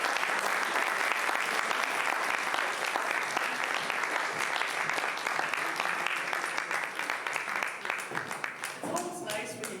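Sustained audience applause at a literary event as two guests walk on stage, dense clapping from a large crowd holding steady for several seconds, with a voice emerging over it near the end.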